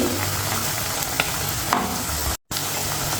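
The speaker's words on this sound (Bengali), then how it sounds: "এইভাবেই উল্টায় পাল্টায় আমি ডুবা তেলে খুব মচমচে করে ভাজা নেবো" Leftover-rice snacks deep-frying in plenty of oil, a steady close hiss and crackle of sizzling with small bubbling pops, unbroken except for a split-second dropout.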